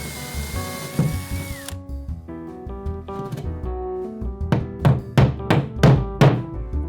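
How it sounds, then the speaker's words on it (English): Power drill boring holes into drywall for wall anchors, with a sustained whine that stops, then a run of short, loud bursts of drilling toward the end, close up with no talking. "it's time to start drilling"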